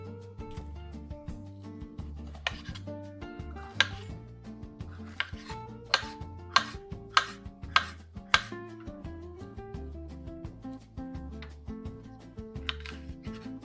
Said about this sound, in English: it can cook while we're chopping the other veggies